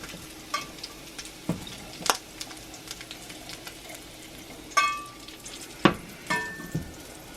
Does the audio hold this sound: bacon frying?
yes